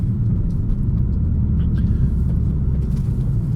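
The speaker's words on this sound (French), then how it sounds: "La sonorité donc à l'échappement est bien plus feutrée" BMW E46 330ci with a muffled, subdued exhaust note, heard as a steady low rumble that stays even and close throughout, with faint higher noises on top.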